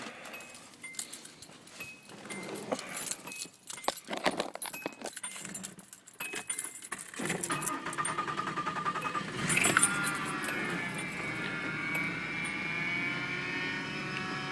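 Mercury Villager minivan engine cranking and catching on the first try after keys jingle in the ignition, then settling into a steady, even idle heard close up.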